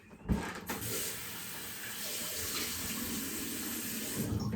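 Tap water runs steadily into a sink while a razor is rinsed under it, opening with a brief clunk and then a close, continuous splashing stream.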